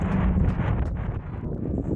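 Strong wind gusting across a snowy mountainside in fog and cold, a loud, steady roar buffeting the microphone with no voices.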